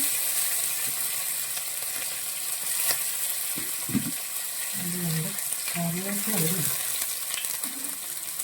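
Ginger and garlic sauté in oil with fenugreek for a Kuttanad-style fish curry, giving a loud continuous sizzle with occasional clinks and scrapes of stirring, and a voice speaking briefly in the middle.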